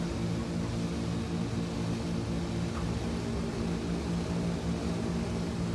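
A steady, loud engine drone from an airplane taxiing on a runway in the X-Plane 12 flight simulator, continuous and unchanging throughout.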